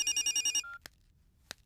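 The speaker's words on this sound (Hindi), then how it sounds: "फोन।" A telephone rings in a quick run of repeated electronic trills that then cut off, followed by two short sharp clicks in a quiet room.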